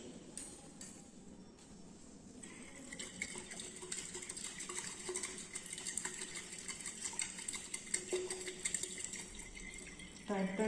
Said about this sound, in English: Titrate with constant stirring, so reaction occurs simultaneously and we got sharp end point.